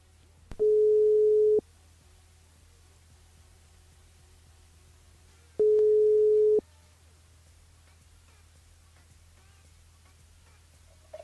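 A telephone line tone during a call into a live radio show sounds twice as a steady, clean beep lasting about a second each, separated by several seconds of quiet line hiss.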